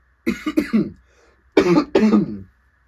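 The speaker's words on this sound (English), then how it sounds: "Yeah, I'm coughing." Two pairs of sharp, hoarse coughs, close and loud, separated by a short pause, with silence after.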